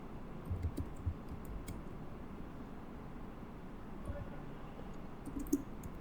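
Soft, quiet clicking of computer keys runs under steady room noise, with scattered light taps across the whole stretch and no voices.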